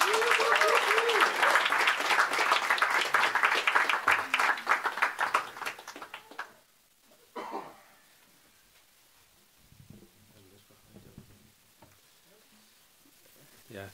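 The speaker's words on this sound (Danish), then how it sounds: "Bliv ved at klappe jeres hænder for Michael Sauni." An audience at a Danish spoken-word poetry evening claps loudly and steadily for several seconds, the applause fading out, followed by quiet room noise with scattered rustles and a few faint voices.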